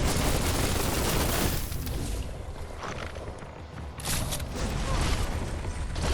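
Rapid weapon fire blasts from a gun in the Biomutant video game, loud and dense, swelling and fading over a busy mechanical game soundscape.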